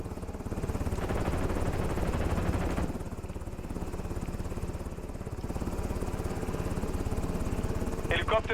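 An extraction helicopter in Call of Duty Warzone drones with a steady, pulsing rotor chop and engine hum, continuous and fairly loud throughout, with brief game sounds near the end.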